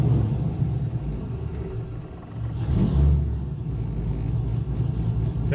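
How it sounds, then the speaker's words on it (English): A Pontiac GTO engine rumbles close by, rising in one throttle blip near the middle before falling back to a rough, low idle, with no talk. "Let's rev it up, see what happens. Give it a little throttle, see what happens."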